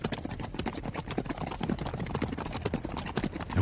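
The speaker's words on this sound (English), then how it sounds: "The sounds of horses echoed like thunder." Horses' hooves beat in a rapid, continuous clatter, a dense galloping rhythm that stays moderately loud throughout with no voices.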